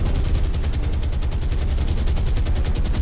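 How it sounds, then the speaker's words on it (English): Torpedo strikes on a warship in the naval game War on the Sea, a loud, continuous rumbling barrage of rapid blasts and crackle with no voices. "Torpedo strikes on the ship behind."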